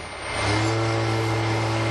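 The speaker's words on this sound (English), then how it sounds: "Let's get out of the way of the truck." A heavy truck hauling a 100-year-old house on narrow tree-lined streets, its engine swelling up to a steady close rumble in a short burst.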